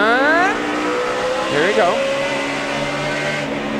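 A race car engine holds a steady high pitch on a straightaway, passing close by and then continuing at an even drone while someone speaks briefly over it.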